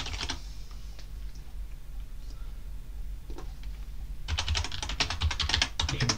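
Fast clicking keystrokes on a computer keyboard while entering a username during a Linux setup, a short burst early, a pause with faint ticks, then a dense run of close, crisp typing at the end.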